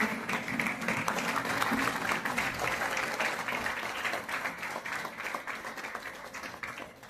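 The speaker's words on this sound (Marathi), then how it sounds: "आपण सर्वांनी टाळ्या वाजवून त्यांचं स्वागत करूया" Audience applause welcoming a speaker at a church lecture event, a sustained, dense clapping from a crowd that stays loud throughout and tapers slightly toward the end.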